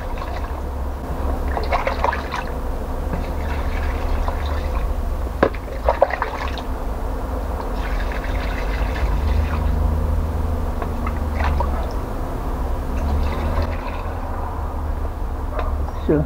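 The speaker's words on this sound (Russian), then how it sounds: "Этот бак 16-литровый и доливаю эту емкость до полноты." Water poured to top up a 16-litre sprayer tank of soda solution for treating grapevines, a steady liquid rush with drips and splashes that runs through the whole stretch, close and moderately loud.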